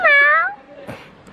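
A cat meows once, close and clear, with a rising then falling pitch, in an outdoor patio setting near Pompeii and the Amalfi Coast; a brief quiet voice follows.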